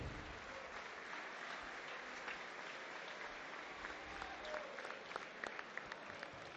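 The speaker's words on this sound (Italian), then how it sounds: "un applauso di benvenuto a eh, Dario Bergamelli" Welcoming applause for Dario Bergamelli at the Novara Calcio season presentation evening in the Broletto, a faint, distant, even patter of crowd clapping with a few sharper claps near the end.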